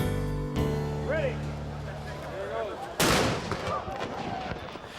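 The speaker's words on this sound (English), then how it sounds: "With the firing of the old Civil War cannon" An old Civil War cannon fires at a town celebration in Red Wing: one sharp, loud boom partway through, heard over crowd noise and background music.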